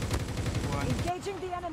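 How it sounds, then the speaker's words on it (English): Rapid bursts of gunfire in a shooter video game rattle close and loud for about a second, then give way to a short tonal game sound. "They're shooting at me too."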